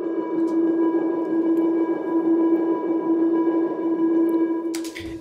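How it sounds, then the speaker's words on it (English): A sustained synthetic tone hums steadily with bright overtones, a continuous electronic ping-like drone that cuts off with a short burst at the end. "And then I've added this ping thing here."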